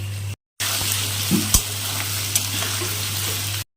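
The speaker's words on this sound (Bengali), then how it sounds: "এখন দিয়ে দেবো মিষ্টি কুমড়া" Pumpkin pieces frying with black cumin, green chili and garlic for pumpkin bharta, with a loud, even sizzle and a few stirring knocks, no talk, after a brief silent gap near the start.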